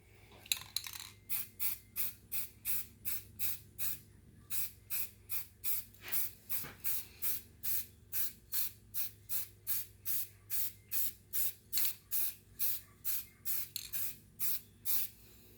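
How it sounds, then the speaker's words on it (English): A rapid series of short, sharp hissing bursts from a spray can onto a hand-carved wooden rabbit, about two per second in a steady rhythm, close and fairly loud. "Spray it from the other angle."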